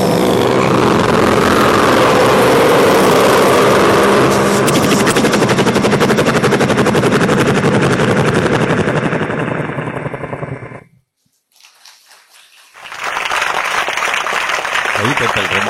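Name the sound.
voice imitating a helicopter by rolling sound in throat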